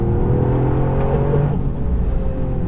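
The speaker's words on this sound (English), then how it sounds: "The engine, it's small, but my goodness, it's enraged." Toyota Yaris GR with a small turbocharged engine accelerating: a loud, steady engine drone with a strong hum throughout, heard alone with no talking.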